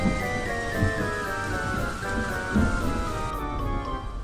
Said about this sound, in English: Thomas was stuck with just the rain and the whistle of Lady.